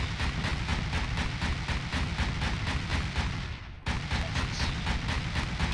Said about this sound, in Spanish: Vamos a tirar los cohetes.